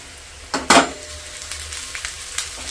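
Onion fries in a pan over a low steady sizzle. Two sharper scrapes or clatters come near the start, then light stirring taps follow at close range.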